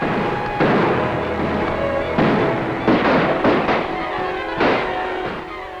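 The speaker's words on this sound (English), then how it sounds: "A lot of shooting going on out there." Gunfire in a 1943 western film, several sharp shots and bursts spread across a few seconds over a steady background rumble, with mid-distance reports of varying loudness.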